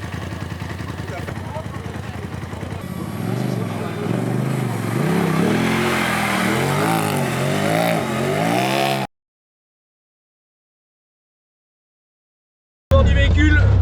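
A Polaris 1000 off-road vehicle engine revs and accelerates across rough, broken terrain, loud and close with rising and falling pitch, then cuts to silence before a brief loud burst returns.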